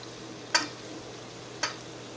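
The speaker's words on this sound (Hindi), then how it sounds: "अब इसमें हम पास्ता ऐड कर देंगे।" Dry macaroni pasta tipped into a pan of cooked masala vegetables, making two short, sharp rattling clatters about a second apart over a faint steady background hum.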